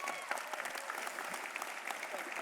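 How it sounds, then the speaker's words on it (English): An audience claps in a steady round of applause at a business awards event, a dense crackle of many hands held at an even level throughout. "So let's give a round of applause to these guys right now."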